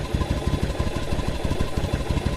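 A Yamaha Virago 1100cc motorcycle engine idles on the reserve fuel setting, with a steady, rapid thumping pulse held close and even for the whole stretch.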